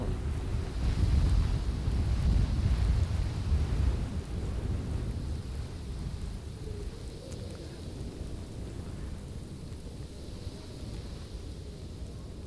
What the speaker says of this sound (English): Not under this storm.